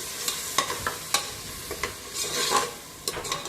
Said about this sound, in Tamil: அடுத்து இஞ்சி பூண்டு பேஸ்ட் வந்து நான் அரைச்சி வச்சுருக்கேன், அதையும் வந்துட்டு சேர்த்து நல்லா கலந்து விடுங்க